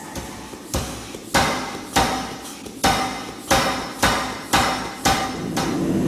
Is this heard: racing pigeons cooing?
no